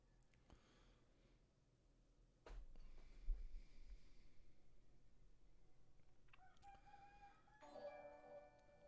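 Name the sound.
rooster crowing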